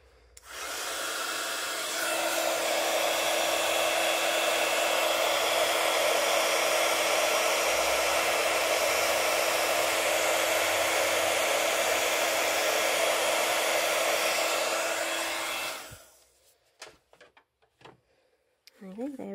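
A heat tool blowing hot air during papercraft work for a Stampin' Up gift tray makes a loud, steady whooshing roar that runs for about fifteen seconds, then cuts off and leaves a few light clicks and handling noises.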